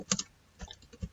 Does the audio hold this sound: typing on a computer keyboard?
yes